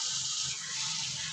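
Water from a rinsed mixer jar hits hot cooking masala, making a steady, soft sizzling hiss that lasts a moment with no voices.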